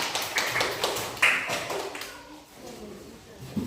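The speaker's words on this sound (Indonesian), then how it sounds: "tepuk tangan dulu untuk si Alicia karena sudah berani maju ke depan" Short round of applause in a classroom for a student who stepped up to the front, a few seconds of scattered claps that fade out, with a voice talking over it.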